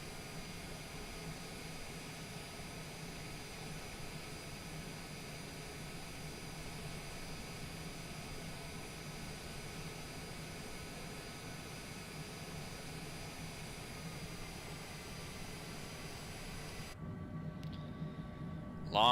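A jet airliner taxis in Microsoft Flight Simulator, a steady even engine whine and hum held at a constant level throughout, with a brief shift in tone right at the end.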